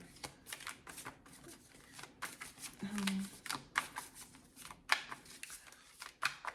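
A deck of tarot cards is shuffled by hand, giving close, crackly riffles and soft card-on-card flicks in an irregular rhythm, with a person talking quietly over it.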